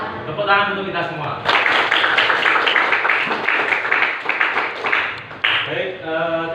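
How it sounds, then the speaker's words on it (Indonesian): A class of schoolchildren claps together after singing a song, a steady burst of many hands that swells, briefly dips, then returns, with voices speaking before and after. "Tepuk tangan untuk kita semua."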